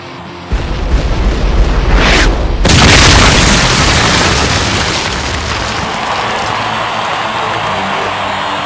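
Airship cannons on the Shadow of the Deep open fire in a deathmatch with the Goliath: a sudden loud boom followed by a second heavy blast, then a long rumbling roar that slowly fades.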